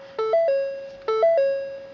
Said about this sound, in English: This is a chime test. Tests all the audible signals from the car.